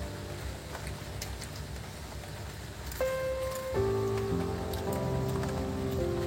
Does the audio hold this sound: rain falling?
yes